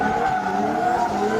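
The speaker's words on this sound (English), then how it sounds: "both cars making their way down the straight" Nissan S14 drift cars on a track, a loud sustained engine drone with tire squeal, continuous and close.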